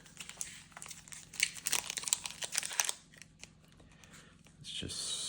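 Topps Chrome Star Wars trading card packs being torn open and crinkled by hand, a busy run of close crackling foil and paper rips for about three seconds, then quieter rustling and a brief hiss of wrapper.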